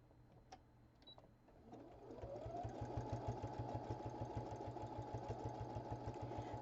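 A sewing machine stitches a needle and sewing-supply keeper, starting with a few quiet clicks and then settling into a loud, steady, fast run of needle strokes. The rhythmic mechanical whir continues close and alone to the end.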